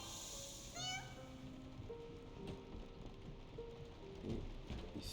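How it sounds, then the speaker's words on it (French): A cat meows a few times in the video game Escape Simulator, moderately close, over a steady rain-like ambient background with no talking. "Ici, on a un petit chat japonais."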